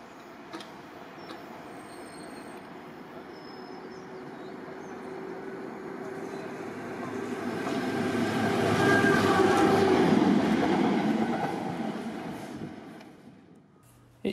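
A Class 90 electric locomotive hauls a Class 37 diesel through Ipswich station, rumbling closer and louder to a peak with wheel noise and squeal, then fading away, with no talking.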